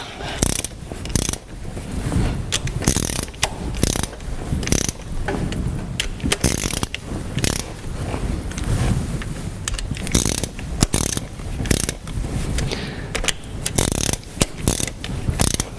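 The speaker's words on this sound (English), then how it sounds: "So first 20 newton meters, and then you go all the way around. Just nip them all up first." A ratchet clicks rapidly in repeated close-up bursts with brief pauses between strokes, tightening the head gasket bolts on a Rover 75 1.8 Turbo engine.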